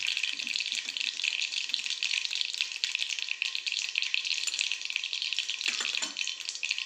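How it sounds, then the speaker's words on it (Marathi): Cumin seeds sizzling in hot oil on a low gas flame: a steady, bright crackling hiss heard close and moderately loud, with a few faint clinks and no talking. "आपलं तेल गरम झालेलं आहे. गॅस आपण बारीक ठेवूया. थोडं जिरे पण टाकून घेऊ."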